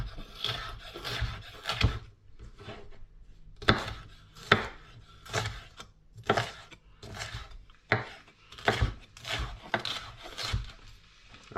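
A knife chops fresh peppers and half an onion on a board in quick irregular strokes, each cut a sharp close thud, with brief gaps between bursts.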